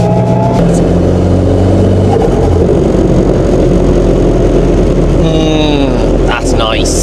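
A Toyota Altezza fitted with an SR20 engine pulling along a straight road, its engine droning loudly and steadily with rising revs near the end while someone talks over it.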